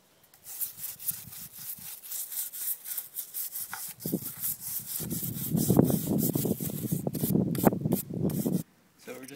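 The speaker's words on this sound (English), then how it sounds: "We're just using a wire brush for that." Rapid, scratchy wire brush strokes rasp back and forth over an oak log, growing heavier and louder midway before stopping abruptly.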